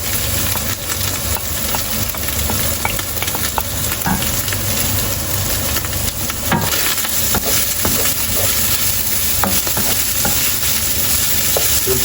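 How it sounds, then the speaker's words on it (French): Ground beef and onions fry in a pan for creamy farfalle, a loud continuous sizzle with scraping stirring strokes and occasional clinks, close and without talk. "On va ajouter les oignons et on va faire cuire tout ça 3-4 minutes."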